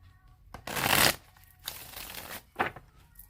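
A deck of cards is shuffled by hand, a couple of quick riffling bursts with a brief pause between, close and fairly quiet indoors.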